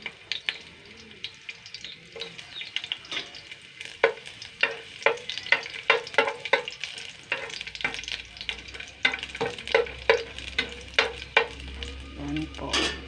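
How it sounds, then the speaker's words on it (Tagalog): Garlic sautéing in hot oil in a clay pot, a light crackling sizzle punctuated by frequent sharp pops and spatters, close and without talk. "Init na po yung mantika. Lagay ko na po itong bawang."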